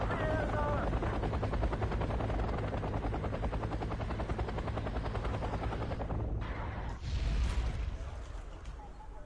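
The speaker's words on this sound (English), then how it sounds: "And that's just a beautiful helicopter." A helicopter's rotor chops steadily and loudly throughout in the video game Wargame: Red Dragon, with game-style gunfire and explosions bursting in the background.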